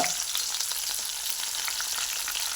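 Ginger garlic paste fries in hot coconut oil, giving a steady, close, bright sizzle and crackle throughout with no voices.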